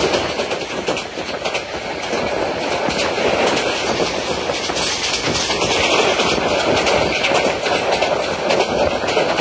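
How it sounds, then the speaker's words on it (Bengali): Mohanagar Godhuli Express passenger train running through Khanabari railway station, heard from on board as a steady, loud rumble with rattling carriage noise and faint rhythmic wheel clatter throughout. "আমাদের ট্রেনটি এখন Khanabari railway station through pass যাচ্ছে।"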